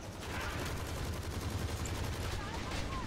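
Dense rapid gunfire from Zombies, Monsters and Robots, a continuous fast rattle of shots at a fairly low level, with no pauses throughout.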